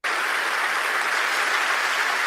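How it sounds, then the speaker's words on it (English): Dense, steady audience applause from a large crowd, loud and sustained for about two seconds with no talking over it. "And they gonna clap."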